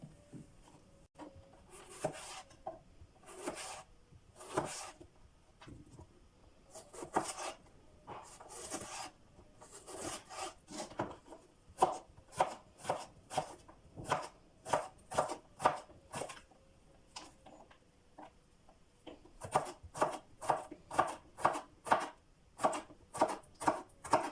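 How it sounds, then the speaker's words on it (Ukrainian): Fresh gherkins being cut into strips with a knife on a wooden board, a long series of crisp sharp chops in bursts, speeding into quick regular runs toward the end, with no talking. "Свіжі огірочки, в мене корнішони, нарізаємо соломкою."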